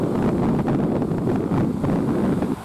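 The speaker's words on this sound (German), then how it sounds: "Jetzt kühler Wind von der See her bei 15 Grad" Cool sea wind blows steadily over the microphone on an evening coast at sunset, a dense, constant rushing roar with no pauses and no voices.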